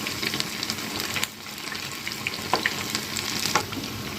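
Perugu vadas frying in hot oil as they are turned, a dense continuous sizzle with soft splashes and clinks of the turning spoon, up close and without voices.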